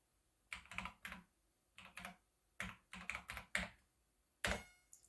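Typing on the keyboard of a C64 Ultimate computer with an Idun cartridge, entering a text editor command: short bursts of clicky keystrokes in quick clusters, separated by brief pauses, close and clear with no talking.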